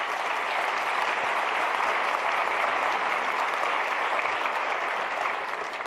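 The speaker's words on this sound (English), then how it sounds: "they deserve a round of applause" An audience at a symposium in Berlin applauds, a dense, steady wash of clapping from many hands that holds evenly throughout.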